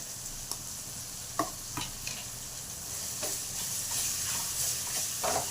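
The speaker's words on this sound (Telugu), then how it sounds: "పచ్చివాసన పోయినాక దీంట్లోనే అల్లం వెల్లుల్లి పేస్ట్ వేగనిచ్చాము" Ginger garlic paste sizzles in hot oil in a pan for chicken curry, a steady frying hiss with a few short stirring scrapes and clicks scattered throughout, fairly quiet and close, no voices.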